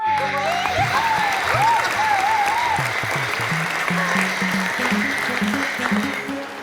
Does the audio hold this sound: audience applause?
yes